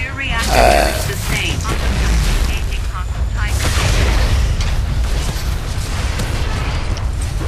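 A Titan mech being destroyed in the video game Titanfall: loud booming blasts and bursts with mechanical clanking roll on continuously for several seconds, dense and close.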